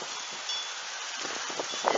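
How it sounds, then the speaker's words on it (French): Strong gusts of wind in the open countryside of Tour-en-Sologne, France, during a severe gale in August, a steady rushing hiss with rustling swells and buffeting bursts that grow stronger toward the end. "Des grosses rafales de vent."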